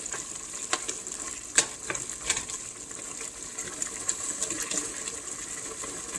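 Bicol Express of pork in coconut milk with chilli, seasoned with salt and black pepper, bubbling in a pan while a spoon stirs, a soft wet simmer with scattered clinks and scrapes, close and moderately quiet, no talking.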